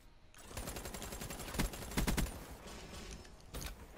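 Gunfire fills a Call of Duty match on the Nuketown map: faint, dense automatic bursts with a few sharper volleys that stand out, running throughout.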